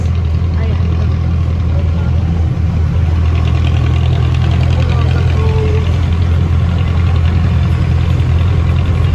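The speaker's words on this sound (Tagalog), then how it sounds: "Naka-jeep na nga pala kami dito guys." Jeepney engine idling loud and close while riding aboard, a constant heavy low diesel drone with steady knocking, with voices talking over it.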